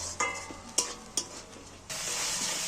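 Tomato masala for egg curry stirred and frying in a pan: sharp spoon scrapes at a few irregular points over a soft sizzle, then a loud, continuous hiss of frying swells up close.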